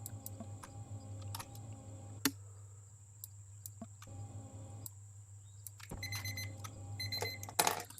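An in-game timer alarm in Empyrion Galactic Survival beeps repeatedly in short, sharp pulses over a low background hum, with the beeping growing busier near the end.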